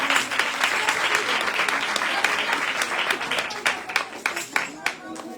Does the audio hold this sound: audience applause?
yes